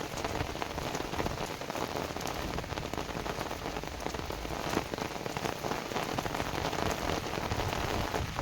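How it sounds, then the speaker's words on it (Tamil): Heavy rain falls steadily and densely for over an hour, a continuous close hiss of drops drumming on surfaces with no pauses and no voices. "மழை தொடர்ந்து ஒரு மணி நேரத்துக்கு மேலே பேஞ்சிக்கிட்டே இருந்துச்சு"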